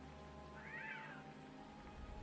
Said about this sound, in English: Did you guys hear that? The cat?